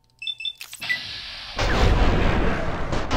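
A sniper rifle shot booms out in Fallout New Vegas: a short chirp of interface beeps comes first, then a sudden heavy blast, and a loud rumbling echo carries on to the end.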